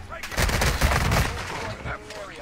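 Explosive mortar and gunfire bursts in a shooter video game, loud and dense with layered blasts and crackling shots, rumbling throughout with a brief lull near the end.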